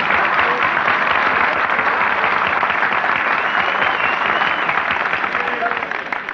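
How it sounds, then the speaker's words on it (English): A studio audience bursts into sustained applause, a dense wash of clapping that holds steady and fades slightly at the end. "Nobody was supposed to applaud there."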